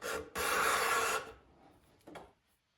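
A hand woodworking tool shaves along a board edge while building a dresser, giving one short rasping stroke, then a longer loud scraping pass, and later a brief fainter scrape, all close up with no talk.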